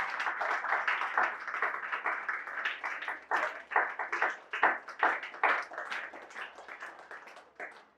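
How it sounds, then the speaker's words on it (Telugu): A church congregation claps in welcome for the visiting pastor at a Vacation Bible School gathering, steady rhythmic group applause from many hands that breaks into looser bursts and fades toward the end. "అయ్య గారికి అందరూ క్లాప్స్ ద్వారా స్వాగతం పలికారు"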